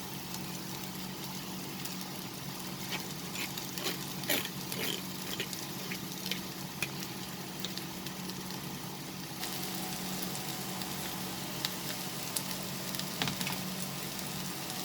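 Rice vermicelli noodles with cooked vegetables being stirred slowly in a pan over a lowered flame, giving a steady soft sizzle with faint scraping clicks throughout, close and moderately quiet, with no talking.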